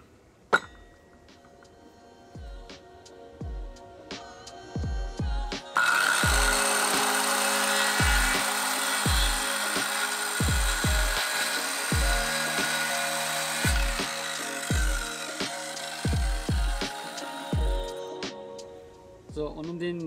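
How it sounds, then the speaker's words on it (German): A power saw cuts wood to a set depth while building wooden windows and doors for a house in Costa Rica. A high whining cut runs for about twelve seconds amid repeated dull knocks, with someone talking. "dafür habe ich die Säge eben auf die Höhe eingestellt, dass das quasi nur bis da unten schneidet"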